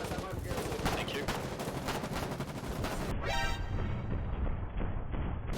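Gunfire from a rifle garrison in the war video game Foxhole, rapid repeated shots in a dense, fairly quiet barrage under battlefield noise, with people talking throughout.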